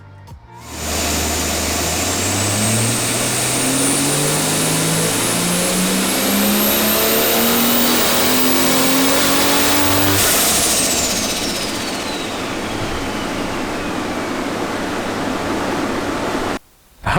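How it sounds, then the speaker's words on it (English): A turbocharged Ford Barra engine from an FG conversion runs at 13 psi of boost and hits valve float. It gives a loud, sustained, rising rev that holds steady at the top before easing back off. "we're hitting valve float and it's less than ideal. We're hitting valve float at 13 PSI"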